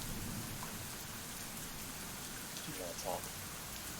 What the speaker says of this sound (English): the rain continues to bear down on us